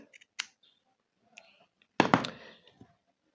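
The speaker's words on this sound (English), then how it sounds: "So I'm going to snip this one" Scissors snipping crochet yarn while making a teddy bear ear, a couple of faint clicks followed by a sharper, louder snip near the end, close up in a quiet room.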